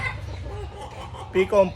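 A pure white Kelso broodstag rooster gives a couple of short clucks near the end, close by, following low background noise and faint voices.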